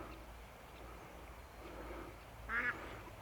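Ducks on a pond beside a football field in a tiny Austrian village, faint background ambience with one brief, clear quack near the end.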